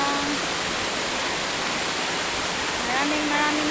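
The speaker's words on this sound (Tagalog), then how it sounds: "isa siyang ilog na may waterfall" A river waterfall carrying lots of water after heavy rain roars as a steady, dense rush, loud and unbroken, with faint bird chirps near the start and end.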